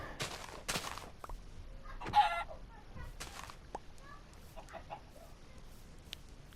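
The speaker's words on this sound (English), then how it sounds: "oh, another chicken" Chickens in the Minecraft Skyblock game cluck in a handful of short, scattered bursts, fairly quiet, with a few other soft game noises between them.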